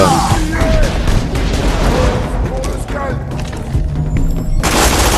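Weapon fire in the game Borderlands 2: dense, booming gunshots and heavy thuds fill the whole stretch in a continuous loud barrage, with a bright burst of blasts near the end.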